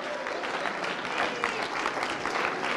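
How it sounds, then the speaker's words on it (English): Congregation clapping for a preacher at a church sermon, a dense steady wash of many hands sustained throughout at even loudness, with no voices over it. "Clap for him."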